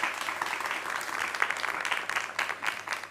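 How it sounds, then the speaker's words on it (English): An audience gives a round of applause to a young author: a soft, even wash of many hands clapping at moderate distance, steady for a few seconds. "I think that deserves a round of applause."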